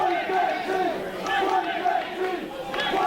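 A wrestling crowd at a Future Stars of Wrestling match chants and cheers for Chris Bey, a rhythmic, rising-and-falling chorus of many voices filling an indoor arena, loud and sustained for a few seconds.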